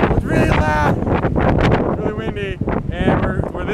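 Heavy gusting wind by the ocean buffets the microphone in loud roaring bursts, with people talking and shouting over it.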